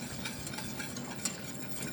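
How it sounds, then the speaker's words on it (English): A spoon stirs a chocolate pot de crème mixture in a pot, soft repeated scraping and swishing at low volume with a faint sizzling bubble underneath. "Okay, so I'm going to mix that very well."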